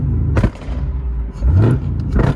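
A ZL1/CTSV LS/LT V8 on a Lingenfelter two-step blips and revs in short bursts, close and rumbling with abrupt thumps and a rising whir.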